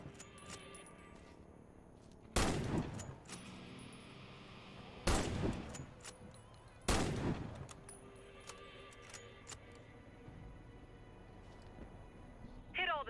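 Three loud, isolated sniper rifle shots in the video game Warface, widely spaced and each followed by a short decay, set against quiet game ambience.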